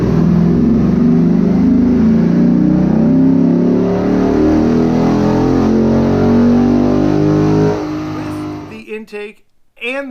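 A Chrysler 300 SRT8 with a 3-inch exhaust, cold air intake and 93 octane tune revs on a dyno, engine roaring loud and sustained for about eight seconds before cutting off, followed by brief talk.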